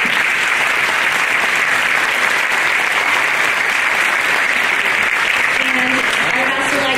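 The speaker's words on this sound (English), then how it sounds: "So I'd like to give a big round of applause." An audience at an elementary school spring choir concert claps loudly and steadily for the staff. The dense applause continues throughout, and a voice begins to emerge near the end.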